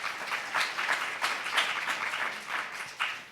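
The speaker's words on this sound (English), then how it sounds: "So I applaud you today." A crowd at a family-advocacy event claps warmly, the applause a dense, even wash of many hands that swells and dips slightly but carries on unbroken.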